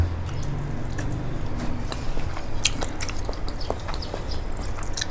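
Someone chewing boiled chicken skin from a large chicken cooked in fish sauce, moist squishy bites and soft crunches close to the microphone, steady throughout with no talking.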